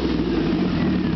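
A Sand Viper EFI dune buggy engine idles close by, its exhaust giving a steady, loud, low rumble with no change in pitch.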